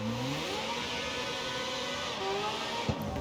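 A video game car engine, a high-revving racing machine on a mountain course, holds steady mid-range revs with a whirring drone, then shifts pitch and gives a short thump near the end.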